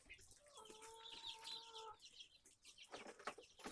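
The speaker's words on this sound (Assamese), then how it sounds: "এইকেইটা কুকুৰাকেইটা দেখিছেনে আৰু হাঁহজনী আৰু এইখিনি পোৱালি কুকুৰা" Chickens with chicks and a duck in a sunny Assamese farmyard, steady clucking and a few sustained crowing or calling notes up close, with rustling and movement around them and no talk.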